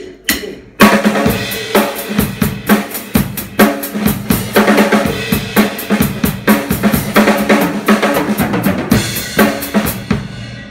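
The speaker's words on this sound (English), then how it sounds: "Have you ever heard a drummer that sounds like this?" A drum kit played with strokes landing too early, giving a rushed, uneven groove of kick, snare and cymbal hits that keeps going for about ten seconds, loud and close.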